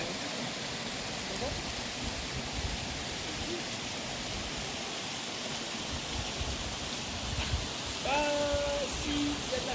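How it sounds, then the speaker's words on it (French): Rain falls on Réunion Island as a steady, even hiss that runs the whole time, with a few brief tonal whistles rising near the end. "il y a de la pluie."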